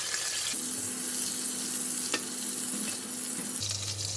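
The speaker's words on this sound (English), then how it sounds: "And I'm putting in the prawns. Prawns is cooked. I'm going to take it out from the pan as well." Prawns fry in a pan for Pattaya fried rice with a steady, close sizzle. A low hum runs underneath, and there is a sharp clink partway through. No one speaks.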